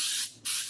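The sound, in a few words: cooking spray sprayed into a sheet cake pan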